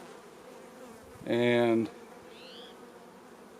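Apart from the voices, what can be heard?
honeybees buzzing in a hive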